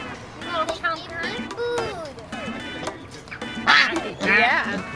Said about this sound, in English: He's got a good quack on him.